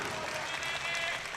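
Dense, steady applause from a packed Swedish crowd in the hall at a world classic powerlifting championship, heard from a distance with a muffled voice under it.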